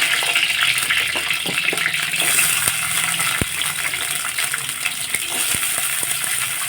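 Small onions tipped into hot oil where mustard and fenugreek seeds have been popping, for a Tamil kara kuzhambu, set up a steady loud sizzle and hiss with a few sharp crackles and spits, close by with no talking.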